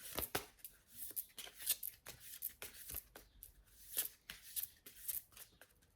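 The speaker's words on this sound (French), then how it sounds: "Ensuite, nous allons mélanger les cartes comme ceci." A deck of cards is shuffled close up, with repeated crisp riffling and flicking bursts in an uneven rhythm, fairly quiet, with no speech.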